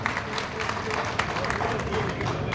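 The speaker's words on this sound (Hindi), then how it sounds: "आज के इस कार्यक्रम में आप अपनी उपस्थिति और अपना उद्बोधन जोरदार तालियों के साथ में स्वागत करिए" A crowd at a gathering in Shekhawati applauds to welcome a speaker, loud close clapping with sharp individual claps standing out over a dense wash and a hum of crowd noise.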